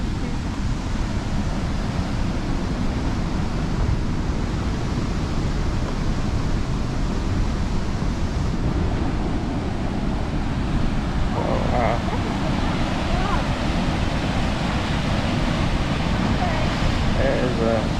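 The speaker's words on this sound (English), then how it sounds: "a big waterfall. It goes right out into Lake Superior there." A big waterfall pouring out into Lake Superior on the Canadian shore gives a steady broadband roar of rushing water, loud and unbroken for the whole stretch.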